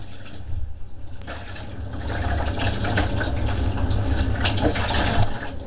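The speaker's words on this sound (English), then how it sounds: "Give the dish a little rinse." Water runs steadily into a dish holding cleaned brake calipers from a Grifter bicycle, a continuous close splashing rinse that starts faintly and grows fuller after the first couple of seconds, with no voices.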